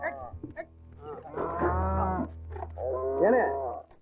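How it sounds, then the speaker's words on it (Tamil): Cattle being loaded onto a lorry give two long, deep, close moos, each swelling and fading, over a low steady rumble in the background. "லாரியில மாடுகளை எங்கே ஏத்திட்டு போறீங்க?"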